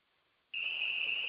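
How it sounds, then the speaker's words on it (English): A phone timer alert starts abruptly partway through, a steady high-pitched electronic beep tone that holds loud and continuous to the end, with no talk. "that was just our phone telling us 5 minutes."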